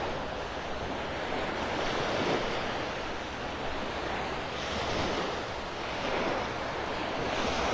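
Waves wash onto Sunset Beach at Delnor-Wiggins in North Naples, Florida, as a steady rolling surf with gentle swells and light wind buffeting the mic, with no voices.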